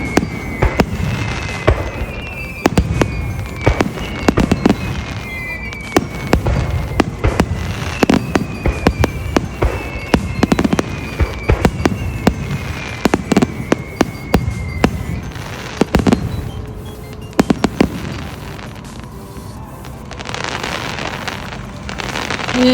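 Fireworks at a local Japanese summer fireworks festival burst repeatedly, sharp booms and crackles spaced irregularly, with whistling rising shells streaking upward between explosions and wind buffeting the microphone.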